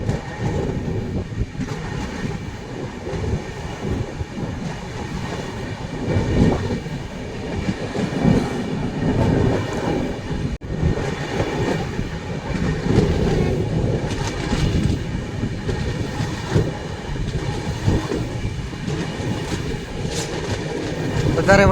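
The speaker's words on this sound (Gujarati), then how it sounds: "હિલોળા મારથી આપણી ટ્રેન જઈ રહી છે દોસ્તો." The 19255 Surat Mahuva Express rolls along the rails with a steady rumble and rhythmic clatter of wheels, heard loud and close from inside the train for over twenty seconds, with a faint voice now and then.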